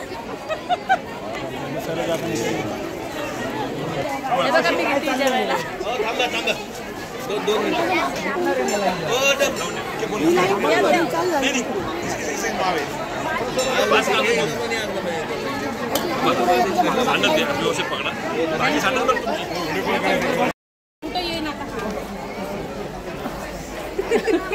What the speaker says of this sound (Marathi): लय गर्दी आहे.